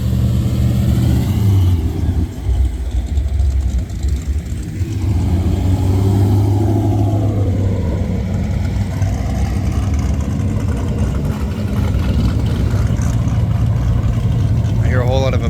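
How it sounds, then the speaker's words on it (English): A supercharged 6-liter V8 car engine rumbles and revs loudly at a busy outdoor car meet, with a heavy, steady low roar throughout and voices faintly mixed into the background. "That looked like a supercharged, like 6-liter in there"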